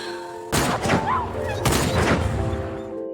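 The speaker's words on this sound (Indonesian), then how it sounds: "Jinman menembak mati anjing liar dan kawanannya pun kabur." Two loud, close gunshots boom in a film scene of a wild dog being shot, each a sharp blast with a rumbling tail, about a second apart.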